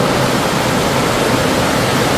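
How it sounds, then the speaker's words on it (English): Running stream water at the opening of Rio Frio Cave in the Mountain Pine Ridge area, a steady, loud, close rush of flowing water with no break and no voices. "there's the running water again"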